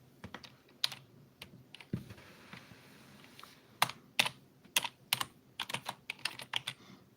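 Someone types one-handed on a computer keyboard, a close, irregular patter of keystrokes that comes in quick bursts separated by short pauses, with no voices.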